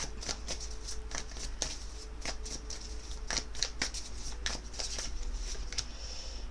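Light Seers Tarot cards are shuffled by hand in a quick run of crisp riffling snaps and flutters, close and fairly soft, with no talking.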